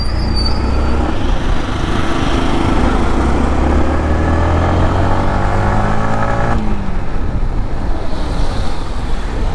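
A Yamaha MT-15 V2 motorcycle being ridden, its engine note rising in a whining pitch sweep under heavy, constant wind rush, then dropping back as the revs fall.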